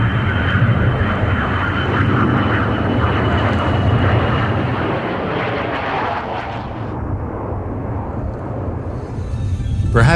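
An F-22 fighter jet passes overhead with a loud, steady broadband roar that holds for several seconds, then thins slightly toward the end as the engine noise fades.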